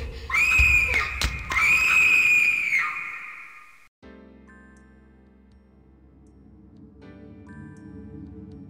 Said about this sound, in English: Obviously hearing screams of people inside the house